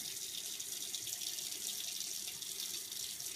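Water tap running steadily into a sink while python hatchlings are rinsed, a constant close hiss of flowing water with no voices.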